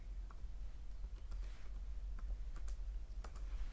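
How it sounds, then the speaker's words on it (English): Rapid, irregular clicks of fingers typing on a computer keyboard, the keystrokes arriving in small bursts over a steady low background hum. "I'm typing in English again."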